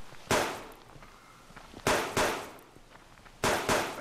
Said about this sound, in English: I got two of them shooting at me